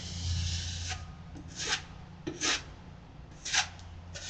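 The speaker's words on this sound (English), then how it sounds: "as I continue to sand this thing" Foam wing core sanded by hand, with soft rasping strokes that come in a few separate passes, moderately close and fairly quiet over a steady low hum.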